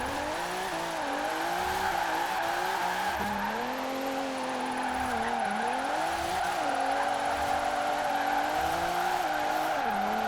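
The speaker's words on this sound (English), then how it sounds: "It generally spins these rear wheels like they're nothing." Retro Alfa Romeo on race tires spinning its rear wheels in Forza Horizon 4, with a loud sustained engine wail rising and falling alongside continuous tire squeal for the whole stretch.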